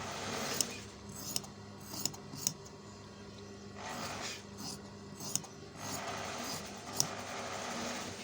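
Scissors snip through fabric while collar pieces are cut out. About half a dozen sharp, close clicks are spaced through rubbing and rustling of the cloth.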